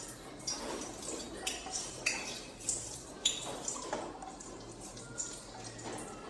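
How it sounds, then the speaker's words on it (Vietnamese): Sugar is stirred in a cooking pot for braised fighting-cock chicken with garlic, producing soft, regular scraping and clinking taps of a spoon against the pot, quiet and close, with no talk. "Rồi chúng ta quậy lên cho đều lên."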